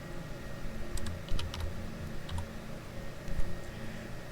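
A few keys are tapped on a computer keyboard to enter a number into a spreadsheet cell. The clicks are light and close, in short clusters over a steady background hum.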